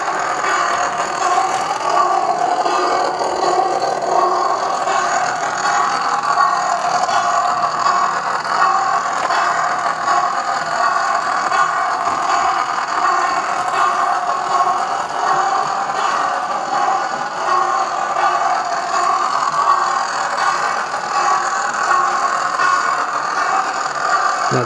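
A model locomotive grinds steadily up the corner slope of a home layout, a continuous whirring motor with faint rattling track noise, close and unbroken throughout.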